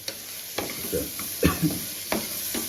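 Dal khichdi cooking in a pan, with a spoon scraping and stirring in irregular strokes over a soft, steady sizzle, close by and moderately quiet.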